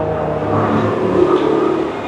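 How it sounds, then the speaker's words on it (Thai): A car rushes past close by, a loud, steady broadband road roar filling the short stretch with a slight swell in the middle and no voices. "เมื่อกี้นี่เสียงรถผ่านมาพอดี"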